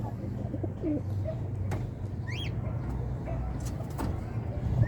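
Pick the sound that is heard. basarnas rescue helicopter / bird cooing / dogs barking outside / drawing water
bird cooing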